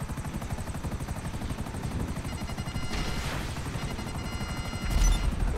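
A video-game helicopter in GTA beats steadily with rapid, even rotor thumps throughout, joined by bursts of gunfire around the third and fifth seconds; fairly quiet overall, with no talking.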